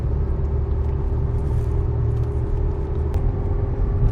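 A car cruising on a highway during a Bangalore to Kanyakumari road trip, heard from inside as a steady, loud low rumble of engine and road noise that stays even throughout, with no one talking.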